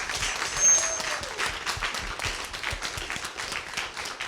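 A crowd at a high school race relations forum applauds steadily, a dense patter of many hands clapping throughout, with a brief whistle near the start.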